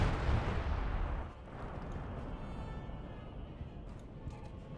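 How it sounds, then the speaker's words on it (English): 25 pounder artillery guns fire in the Company of Heroes 2 battle game, a heavy booming barrage loud in the first second or so, then a steady rumble of distant battle noise. "Unleashing the power of the 25 pounder guns upon Angreifen."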